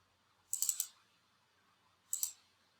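Computer mouse clicking in a quiet room, a quick burst of three or four crisp clicks followed by a single pair of clicks a moment later, close and faint.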